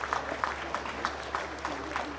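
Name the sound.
audience applause at a Holstein cow show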